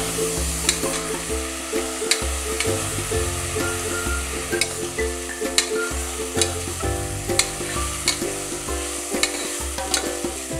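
Tomatoes fry with onions in a pressure cooker for chicken biryani, giving a steady sizzle with frequent stirring and scraping of a spoon against metal. Close and continuous, with no talking.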